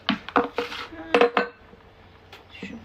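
A few sharp knife strikes chopping peppers knock against a cutting board in quick clusters, then a pause and a couple more taps.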